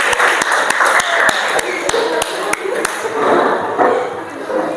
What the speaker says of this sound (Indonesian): Sekali lagi kita berikan aplaus ya.